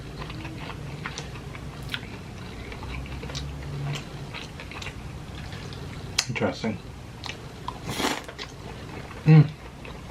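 Close chewing and crunching of crispy fried falafel-like food, scattered bites and wet mouth clicks over several seconds, with a person briefly talking.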